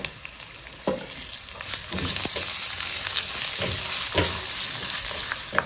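Green chillies fry noisily in a pan for Kolhapuri kharda, a steady close sizzle punctuated by periodic scraping stirs.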